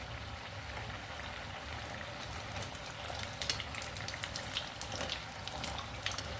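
Raw banana fritters (aratikaya vadas) fry in oil, giving a steady, low, bubbling hiss with small crackles that continues evenly throughout.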